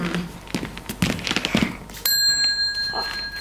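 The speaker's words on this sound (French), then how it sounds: "vous entendez la cloche?" A bell rings out clearly after a stretch of knocking and shuffling stage noises, its bright sustained tone lingering and slowly fading at an improvised children's theatre show.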